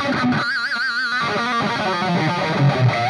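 Electric guitar played through a Bugera 1990 tube amp with reverb, on a Music Man EVH guitar, with fast distorted shred lines and wavering sustained notes ringing out, loud and continuous with no talking.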